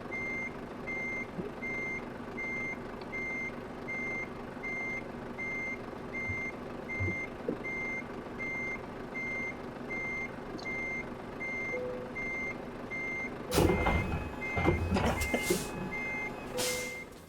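A truck in Euro Truck Simulator 2 gives off regularly spaced reversing beeps that run steadily through the whole stretch. A louder burst of engine and mechanical noise joins near the end.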